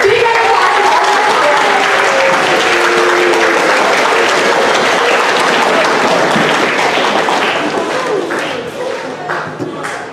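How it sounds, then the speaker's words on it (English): A crowd gives loud, sustained applause with cheers and whoops after high school spoken word performances. The clapping fills the room and fades slightly toward the end. "let's give a big round of applause to all of our"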